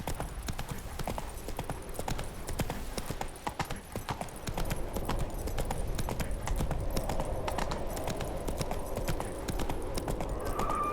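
In The Witcher 3: Wild Hunt, the horse Roach walks with a steady, close clip-clop of hooves, a quick even rhythm over a soft ambient bed and no talking.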